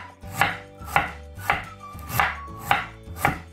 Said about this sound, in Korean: 무는 크니까 이렇게 반을 내주셔요. 좀 두껍게 이렇게 썰어 주셔요.